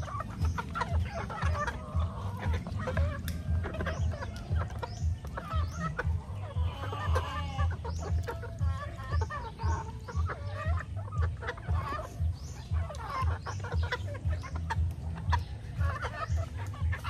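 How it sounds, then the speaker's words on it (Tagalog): Chickens cluck continuously at close range in an outdoor setting, a busy overlapping chorus of short calls that runs steadily throughout with little other sound. "tignan nyo, dami naming manok."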